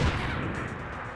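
Grenade blast in XCOM 2, a loud, low boom at the start followed by a rumbling decay that fades over about a second.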